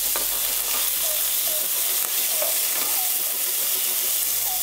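Curry leaves fry in hot oil for green chilli chicken, a steady close sizzle and hiss running throughout with faint light crackles.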